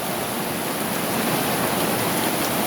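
Heavy rain pours in a steady, dense roar with no breaks, close and loud throughout.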